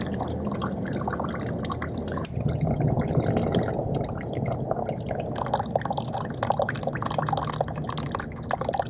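Coolant draining from a Vespa GT200 scooter into a pan, a steady close trickle and splatter of liquid running throughout with small drips standing out, no talking.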